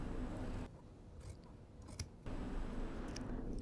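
Scissors cutting fabric strips for a coat's buttonhole facing: a close, quiet run of crisp snips in two bursts separated by a short pause.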